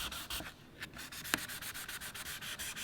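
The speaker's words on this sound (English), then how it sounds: "Now we can go through and flat sand it with that 2000 grit that we nibbed out the dirt with." Flat sanding fresh car paint on a Civic Type R body panel with 2000 grit sandpaper: a steady, close, rhythmic rasp of repeated hand strokes, each pass a soft scratchy swish, with no talking.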